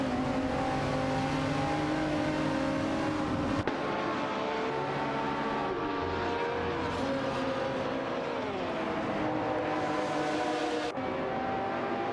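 Engines of a Lamborghini Gallardo GT3 and a Nissan 350Z GT300 in a video game race, droning loudly and steadily with shifting pitches as the cars rev and accelerate, with no talk.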